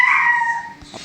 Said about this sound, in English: My dog gets loud.